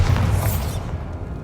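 A Bombarda spell blast in Hogwarts Legacy, a single deep booming explosion with a low rumbling body and a short crackling tail that fades within about a second.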